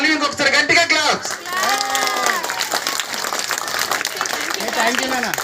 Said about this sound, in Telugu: కార్తిక కోసం మళ్ళీ ఇంకొకసారి గట్టిగా క్లాప్స్